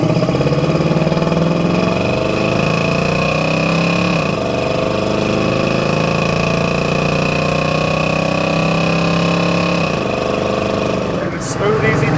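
A lowered 1966 Chevrolet C10 pickup with a 350 V8 and aluminum heads pulls away and accelerates, its engine note climbing steadily through the gears with two shifts, loud and close from inside the cab.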